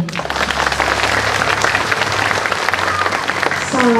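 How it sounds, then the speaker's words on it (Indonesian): A congregation at a revival church service in Mamasa breaks into loud, sustained applause, an unbroken wash of clapping over low held musical tones that run underneath. "Tepuk tangan dong."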